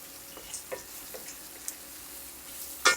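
Shallots frying in a pan over medium heat, a quiet steady sizzle with a few light spoon taps and stirs, ending in a brief louder scrape.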